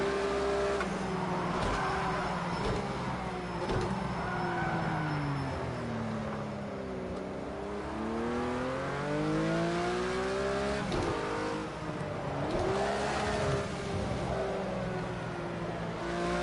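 A Porsche GT3 RS engine in a racing video game on the Nürburgring GP circuit, revving up and down steadily through gear changes, with sweeping pitch rises and falls and no talk.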